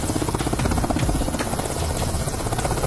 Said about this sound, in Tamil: பிரதமர் மோடி ஹெலிகாப்டர்ல பறந்து போனார்